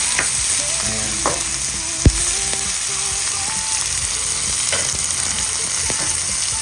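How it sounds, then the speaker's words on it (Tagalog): Garlic, onion and tomato sizzling in a hot pan for an ampalaya dish, a steady close crackle with occasional stirring scrapes and one sharp clink of a utensil. "ginigisa ko na po ang ating bawang, ang ating sibuyas, at ang ating kamatis"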